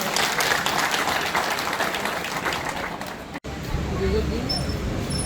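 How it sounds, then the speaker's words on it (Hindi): A crowd at a memorial ceremony for the fallen soldier Havildar Daler Singh gives vigorous applause for about three seconds, then it cuts off abruptly, leaving quieter room sound. "एक जोरदार ताली तो इनके लिए बनती है"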